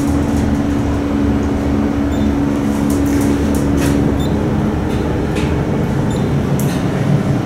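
A modernized traction elevator rides down inside a parking garage at a Hampton Inn in Milwaukee, Wisconsin. It gives off a steady, loud rumbling hum with a low tone that drops partway through, and faint clicks and rattles come over it.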